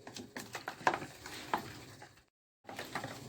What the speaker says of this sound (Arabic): انا هفضل اقلب في الخلطة دي كده كلها